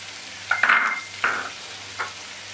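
Chopped shallots and garlic hit a hot pan for a soya roast, with a few sharp bursts of sizzling and stirring scrapes over a low steady hum, close and moderately loud.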